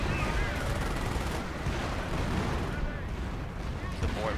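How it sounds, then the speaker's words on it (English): Howitzer artillery fire in a tournament match of a war video game booms and rumbles densely amid other battle noise, with a commentator talking over it. "The howitzer shot is coming in right now."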